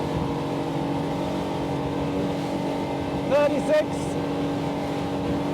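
Windy SR28 CC sportsboat running at high speed around 37 knots on a sea trial, a steady loud engine and hull drone throughout with a brief voice in the middle.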